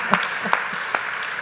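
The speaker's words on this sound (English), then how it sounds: "That deserves a big round of applause," A conference audience at TiEcon Kerala in Kochi gives brief applause, a short burst of clapping with a few sharper individual claps standing out and a faint voice underneath.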